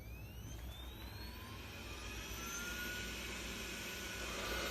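A Roborock S6 Pure robot vacuum and mop runs with a steady whirring motor hum and a rising high whine, fairly quiet and constant, with no voices.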